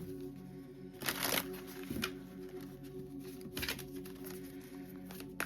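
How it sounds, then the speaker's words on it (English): A new deck of tarot cards riffled and shuffled close up, a couple of brisk fluttering bursts with softer rustling between, over a faint background hum. "These are a new deck, so I'm just giving them a good old shuffle."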